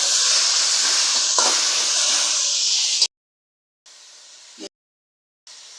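Chopped tomato drops into a hot pan of frying ginger, garlic and cumin paste, giving a loud, steady sizzle for about three seconds that then breaks off into short hissing bursts.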